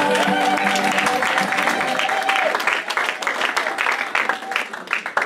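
A church congregation bursts into sustained applause and crowd noise at a worship gathering, dense and loud throughout, with a sung tone fading out early under the clapping.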